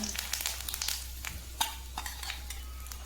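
Ingredients crackle and spit in hot oil as a homemade joint-pain oil is fried on the stove, with scattered sharp pops over a steady sizzle, close and fairly loud, with no talking.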